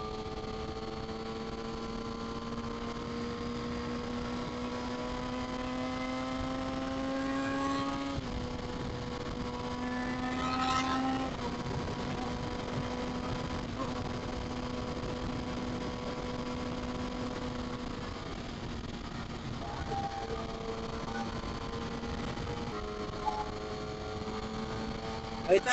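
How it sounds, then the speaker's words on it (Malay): Steady engine drone from a riding Kawasaki ZX-6R with busy car traffic moving alongside on a Malaysian road near Nibong Tebal, continuous and fairly loud, the tone shifting as the bike changes speed. Someone talks over it throughout. "Kereta banyak guys, kereta banyak."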